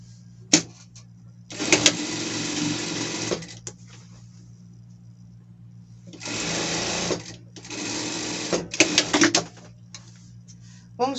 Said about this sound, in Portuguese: Passar uma costura.